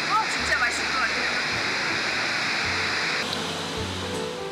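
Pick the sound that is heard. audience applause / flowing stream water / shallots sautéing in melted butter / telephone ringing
flowing stream water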